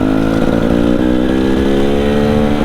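Dirt bike engine running steadily while riding a green lane on a sunny day, a loud, continuous buzzing drone with slight rises and falls in revs throughout.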